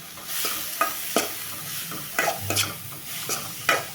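Sliced radish sautéed with onion in a pan for mullangi thuvaiyal, a soft steady sizzle broken by periodic scraping strokes of a spatula, close and moderately loud.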